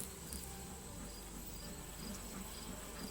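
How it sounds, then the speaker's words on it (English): Honey bees swarm around a hive where they are building burr comb, giving a steady, close, droning hum with a fainter high whine above it and no pauses. "They're building a hive over here, Steve."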